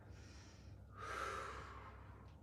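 A single deep, close breath taken during a yoga session: a soft airy inhale followed by a fuller, louder exhale, with quiet room tone around it.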